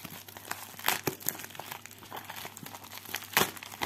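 A padded bubble envelope for a diamond painting kit crinkles and rustles under steady handling, close and continuous with sharper crackling bursts scattered throughout.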